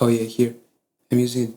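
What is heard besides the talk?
No everyday noise stands out behind the speech.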